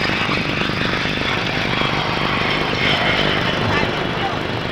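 A 1950s aircraft at the Farnborough air show lands with tail brake parachutes, its engine a steady, loud drone that fills the whole stretch with an even roar.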